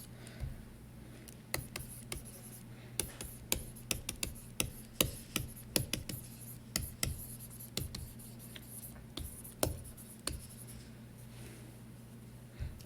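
Handwriting on a board or paper during a chemistry lesson, a steady series of close, soft scratching and tapping strokes in irregular bursts over a faint background hum, with no talking.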